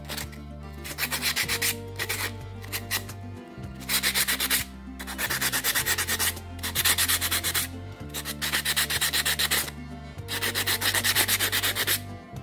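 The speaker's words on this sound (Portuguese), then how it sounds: "essa lixa aqui é 220. Ah, eu uso qualquer lixa que tiver aqui" Rough rasping rubbing of 220-grit sandpaper on a small cement note holder, in steady back-and-forth strokes grouped into bursts with short pauses, close and fairly loud over a low background tone.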